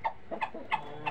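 A native Gavrani village hen clucks close by in four short, evenly spaced clucks, with no other sound around them.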